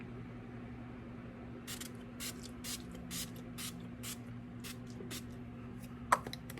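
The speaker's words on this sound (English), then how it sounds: "I'm just spraying this to get rid of some of the powder on my face." Several soft, quick spritzes from a facial primer mist spray bottle in a steady series over a low background hum, ending with a light click.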